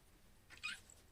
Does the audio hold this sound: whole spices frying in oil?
no